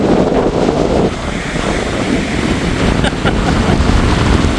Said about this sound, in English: Fighting with the wind.